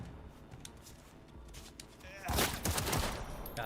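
Sudden bursts of gunfire in Cyberpunk 2077 erupt after a calmer stretch, loud rapid shots clustered together in the second half.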